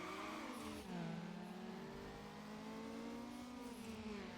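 Car engine revving hard during a drag race in Need for Speed Underground on the original Xbox, a steady high-pitched engine tone climbing and dropping between shifts, loud and continuous with no talk.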